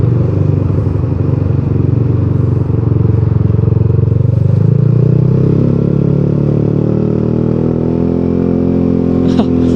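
A Yamaha XMAX scooter engine runs loud and close with a steady droning hum that builds and climbs in pitch toward the end, and no voices are heard.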